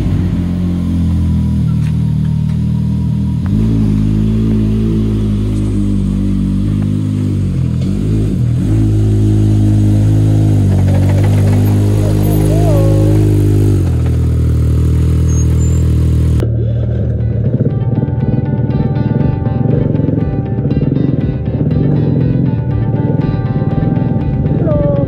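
The engine of a Maverick side-by-side taken for a spin, idling and revving with repeated throttle blips and mechanical clatter, then settling into a rougher running drone, loud and close throughout.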